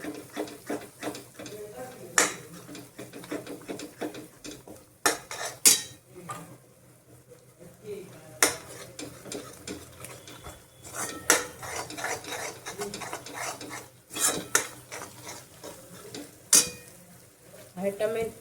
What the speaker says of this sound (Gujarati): ડુંગળી 2 મિનિટ પાકી જાય એટલે ટમેટાની પેસ્ટ નાખશું।